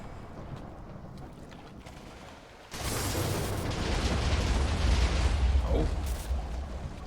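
Explosions in a Minecraft mob battle: a quiet stretch gives way to a sudden sustained rumbling roar of blasts that holds loud and broad for several seconds before easing slightly.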